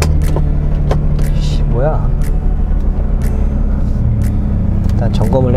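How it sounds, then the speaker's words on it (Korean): A cheap used convertible, bought for three million won, idles just after starting with a steady, loud low engine hum. Brief clicks and rattles come from inside the cabin, and someone talks over the sound. "오 시동은 잘 걸리는데 이제?"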